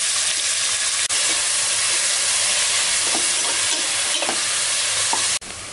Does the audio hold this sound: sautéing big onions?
yes